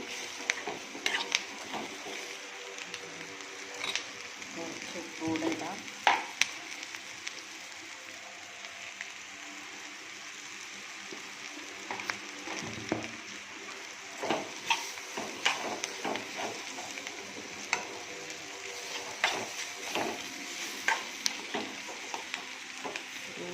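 Onion and chili fry in a pan for a chutney: a quiet, steady background sizzle broken by scattered spoon-on-pan taps and scrapes over a long stretch.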